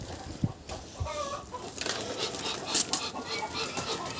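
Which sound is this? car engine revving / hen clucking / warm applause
hen clucking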